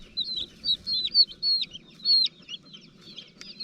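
Young Brahma and blue-laced Wyandotte chicks peep in a brooder bin, a rapid chorus of shrill, close cheeps that continues without pause over faint low rustling.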